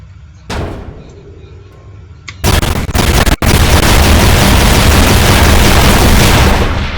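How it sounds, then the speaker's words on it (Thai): Explosive gun blasts in People Playground: a burst, then a heavy explosive roar that swells and sustains loudly, with a brief sharp cut in the middle. "ก็จะเป็นปืนระเบิด"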